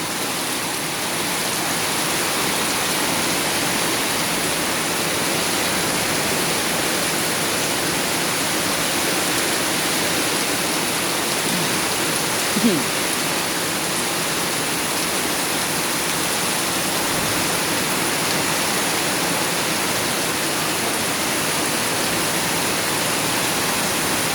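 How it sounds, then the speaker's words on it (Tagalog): Heavy rain pours down steadily and loudly for the whole stretch, a dense unbroken hiss with no letup. "Na ganitong kalakas ng ulan."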